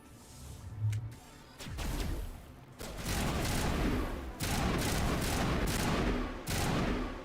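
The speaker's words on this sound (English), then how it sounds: "This is burst fire, but at least I can hold it down." Burst-fire weapon shooting in the Mass Effect Legendary Edition game, loud repeated volleys of gunfire that roll on almost continuously after a quieter opening, with sharp cracks and heavy booms layered through the bursts.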